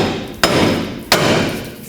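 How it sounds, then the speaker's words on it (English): A large hammer strikes a wheel hub on a Pontiac G6 to break it free: two sharp metallic blows about two-thirds of a second apart, loud and close with ringing decay. "Use a large hammer and just hit it back and forth until it breaks free."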